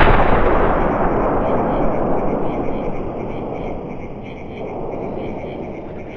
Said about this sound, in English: the sounds and the shooting animation is the same as with the old Muzzleloader